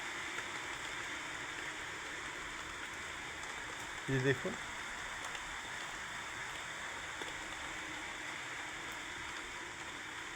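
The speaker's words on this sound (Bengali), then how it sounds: "এদিকে দেখুন বৃষ্টি একদম টাপুর টুপুর বৃষ্টি পড়েই চলেছে" Steady rain falls in leafy surroundings, a soft even hiss of pattering drops running throughout, with a brief spoken phrase partway through.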